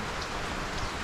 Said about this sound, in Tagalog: kahapon pa po walang tigil ang ulan